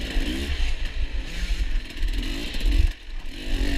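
A dirt bike engine revs hard during an overtake in an enduro race, its rough buzzing drone rising and falling with throttle changes, close and loud, alongside clattering and rattling from the bike.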